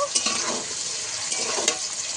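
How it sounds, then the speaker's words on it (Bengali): Broad beans frying in a pan with salt for hilsa fish fried rice, a steady close hiss and sizzle with a few light stirring scrapes. "বটবটিটা আমি কিছুক্ষণ ভেজে নেব।"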